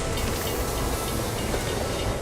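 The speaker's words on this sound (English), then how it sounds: "Come on now, we gotta keep this train on schedule." A train rolls along in the video game Borderlands 2, a loud, continuous rumbling roar with hissing and faint clattering, steady and close with no talking.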